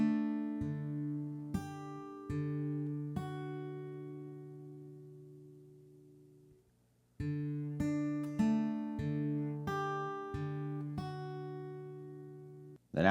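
Single acoustic guitar notes from a riff, plucked one after another at a steady, moderate pace; clear, close and fairly quiet, each note ringing and decaying, with a short pause midway.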